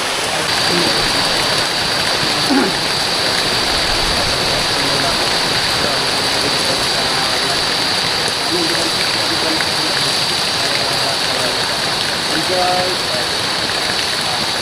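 Heavy tropical rain pours down outdoors while people bathe in it, a loud, dense, unbroken hiss of water, with voices faintly audible beneath the downpour.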